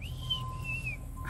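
A pet bird whistles a clear, high melody of a few sliding notes over a low background hum, faint and brief.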